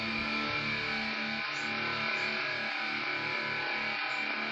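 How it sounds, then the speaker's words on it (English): A distorted electric guitar chord sustains through the buildup of a song, a buzzing, saturated tone that rings steadily for several seconds, with no voices. "with a distorted electric guitar."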